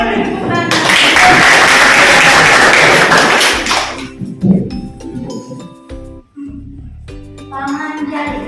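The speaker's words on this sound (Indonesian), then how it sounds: "Mari tepuk tangan." Loud, close applause from a high school class fills the first few seconds, then dies away into scattered taps, thumps and background chatter.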